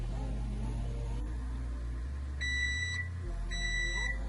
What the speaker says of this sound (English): our muffins are done by the timer